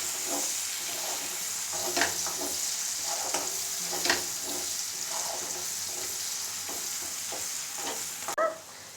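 Onions frying in hot oil for Mughlai chicken, a continuous close sizzle with soft periodic stirring scrapes, ending in a brief clatter.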